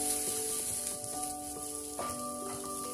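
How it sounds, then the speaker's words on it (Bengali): Sweet potato pieces sizzle in hot oil in a pan with a steady, faint hiss, while sustained melodic tones run throughout. "রাঙা আলুগুলো ভাজা হয়ে গেছে"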